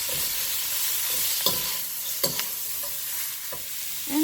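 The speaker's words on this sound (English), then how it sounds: "Now my vegetables. Going to give this a good stir fry." Vegetables for lo mein stir-fried in a pan, a steady close sizzle with intermittent utensil scrapes and knocks as they are tossed, no speech.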